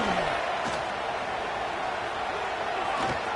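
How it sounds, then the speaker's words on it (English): A loud stadium crowd at a college football game roars in a dense, continuous wash of noise, steady and unbroken. "Listen to this crowd noise. This stadium is vibrating."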